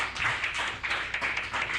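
A crowd at Ridgeway's pool hall applauds a shot during a 1996 Strickland versus Reyes match, with brisk, continuous clapping close by for a couple of seconds.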